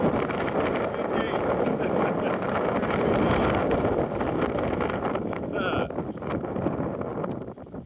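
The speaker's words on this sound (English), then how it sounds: "every now and again you get gusts of very high wind like that" Strong, steady mountain wind gusts roaring against the microphone in the Hohe Tauern, a dense rumbling rush that eases slightly toward the end.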